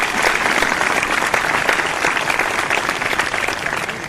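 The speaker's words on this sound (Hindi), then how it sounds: "पहली बार ताली सुनकर के अच्छा लगा।" Audience applause at a Hindi poetry gathering, a loud, sustained wash of many hands clapping with no break, close and full, with a hint of crowd noise beneath.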